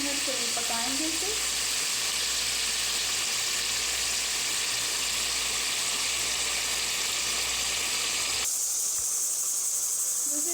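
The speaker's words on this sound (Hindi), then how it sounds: "दूसरी साइड पे हमारी दाल का प्रेशर जो है वो ऑन हो गया है, गलानी शुरू हो गई है।" A pressure cooker of lentils hisses in a constant, steady steam stream, with a bright sizzling texture throughout and a sudden change in tone near the end, no voices over it.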